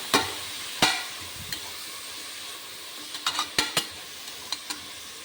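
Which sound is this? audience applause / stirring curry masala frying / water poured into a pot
stirring curry masala frying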